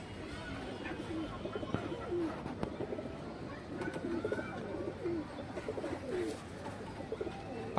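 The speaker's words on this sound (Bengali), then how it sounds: "খুব সুন্দর একটা খরা গলানোর কবুতর সাইজও বড় আছে" A large, dark jam-coloured Khoragola pigeon coos softly and repeatedly at close range in a quiet setting, with faint rustling and a few soft background sounds.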